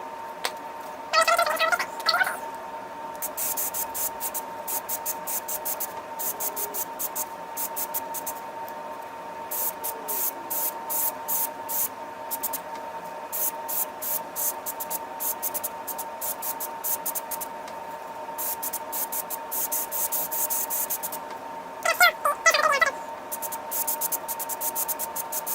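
Bursts of K&N air filter oil being sprayed onto a filter, short hissing spritzes near the start and end with scattered crackling ticks over a steady background hum.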